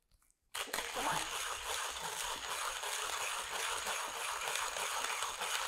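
A 1Zpresso K-Pro hand-cranked coffee grinder crunching beans, a close, loud and steady gritty grinding that starts abruptly after a brief quiet moment and continues without pause.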